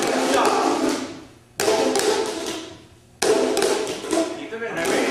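Plastic tubes are tapped in a steady rhythm, giving loud, hollow resonant strikes, three main hits about a second and a half apart, each ringing and decaying, with voices present.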